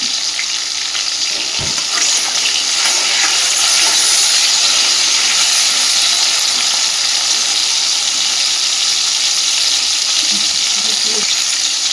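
Potatoes with salt and slit green chilies frying in a pan, a loud continuous hissing sizzle filling the whole stretch, with a single knock early on.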